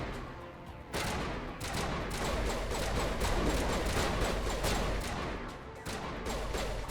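Sustained dense gunfire from allied squadmates shooting in a video game, a continuous crackling volley with a few sharp breaks, loud and busy throughout with no talk.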